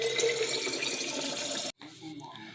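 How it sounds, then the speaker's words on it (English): Hot water runs steadily from a tap in a broad rushing hiss, then cuts off abruptly, leaving quieter room sounds. "I'm just going to fill it up with hot water."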